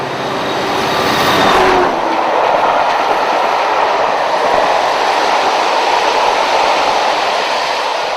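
A charter railtour train on the Great Western Main Line, loud and near, with a steady rolling rumble and rail rattle throughout and a brief louder surge early on, no one talking.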